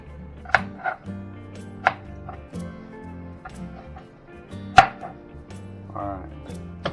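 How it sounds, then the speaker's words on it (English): Seeded peppers chopped into small pieces on a cutting board, with sharp knife strikes in an irregular rhythm, close and clear, some quieter cuts between the louder ones. "I'm going to just cut them up into smaller pieces."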